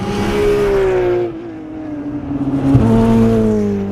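Race cars roaring around the Dijon-Prenois circuit, a loud sustained engine note rising and falling in pitch as cars accelerate and pass, with a brief surge near the end and no voices.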